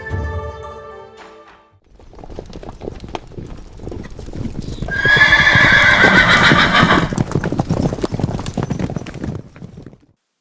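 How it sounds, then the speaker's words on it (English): A horse whinnies loudly and at length, its high, wavering neigh rising over the steady clip-clop of hooves nearby. "The horse's neighing brought attention to the servants who opened the drawbridge."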